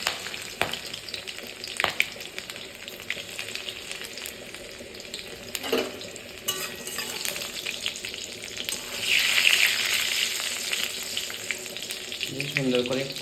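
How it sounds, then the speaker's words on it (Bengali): Tempering spices and chopped garlic fry in oil for a banana-flower and egg dish, a continuous sizzle dotted with utensil clinks and taps, swelling into a louder hiss partway through. "ফোড়নটা সুন্দর করে ভাজা হতে থাক, তার মধ্যে আমি অ্যাড করে নেব হচ্ছে রসুন কুচি।"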